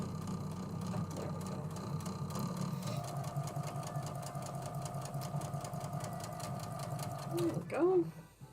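A sewing machine runs steadily at close range, stitching fabric triangles together with a continuous mechanical whir and needle clatter, then slows and stops near the end; a person speaks briefly.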